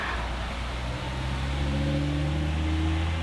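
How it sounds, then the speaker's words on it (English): A big box truck driving past outside a house: a steady, fairly loud engine rumble with rising drawn-out tones as it passes, with no talking. "the big box truck just went by"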